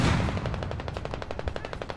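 Rapid tank gunfire in a video game tank battle, a dense burst of sharp, evenly spaced shots keeping a steady fast rhythm, loud and close throughout with no talk.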